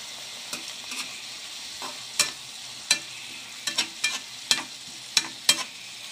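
Potato pieces fry in a pan for a potato and beans curry, with a faint steady sizzle under sharp, irregular scraping clicks as they are stirred.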